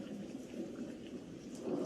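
Thunder and rain in an animated horror storybook scene, a low, soft rumble under a steady hiss of falling rain, fairly faint and continuous.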